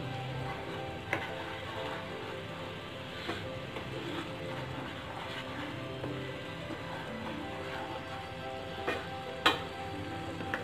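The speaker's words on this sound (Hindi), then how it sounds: "अब हम इसे मीडियम फ्लेम में लगातार चलाते हुए हमें चाशनी को गाढ़ा करना है।" Thick sugar syrup for tagar or boora is stirred continuously in a pan over a medium flame, giving a steady low bubbling sizzle with soft scraping and a few sharp clicks of the spoon against the pan.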